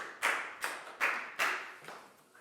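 A Year 4 class claps for a student in four or five separate bursts of handclaps, each fading before the next. The sound is close and moderately loud, with no talk over it.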